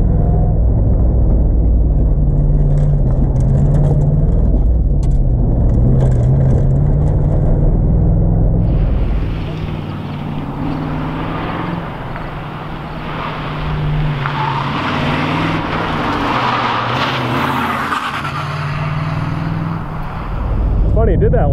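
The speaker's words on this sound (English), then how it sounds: "It's like it starves for fuel on corners and breaks up a little bit." Camaro IROC-Z with a carburetor on an autocross course, engine droning loudly then dropping and breaking up unevenly through a corner before picking back up, recorded from inside the car.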